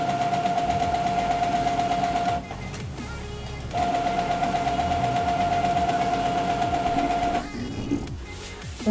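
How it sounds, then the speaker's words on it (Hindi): A Brother T520W inkjet printer starts up after being powered on, its internal mechanism whirring and humming with a steady tone, pausing briefly, then resuming and stopping again near the end. "दोस्तों प्रिंटर को पावर मिल चुका है और प्रिंटर ऑन हो चुका है।"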